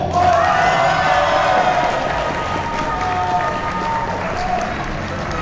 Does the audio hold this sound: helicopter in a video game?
no